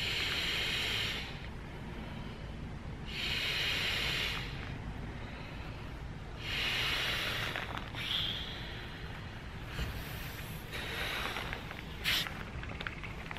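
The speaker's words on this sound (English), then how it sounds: "So to inflate it, we can just open the valve and then blow into it." Breaths blown into the valve of a Klymit Inertia X Frame sleeping pad to inflate it, about four long airy blowing hisses separated by pauses, close and fairly quiet.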